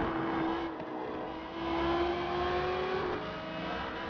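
A race car engine in the Forza racing video game holds a steady high drone, easing slightly and then swelling again as the throttle opens, loud and continuous with no talk.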